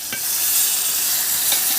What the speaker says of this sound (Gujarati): જો દાળનો વઘાર કેવો મસ્ત વઘાર્યો છે